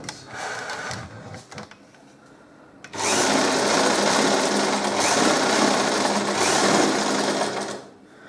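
Sewing machine stitching a nighty: quiet handling and faint rustling for the first few seconds, then a loud, steady, close mechanical whirr of continuous stitching that runs until it slows and stops near the end.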